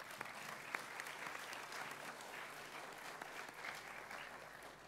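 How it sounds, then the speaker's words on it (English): Faint, distant applause from an audience at a Centenary Heights State High School awards ceremony, a soft continuous patter of clapping with a few sharper claps throughout. "A huge round of applause for all of these people."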